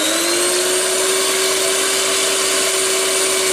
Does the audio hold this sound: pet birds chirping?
no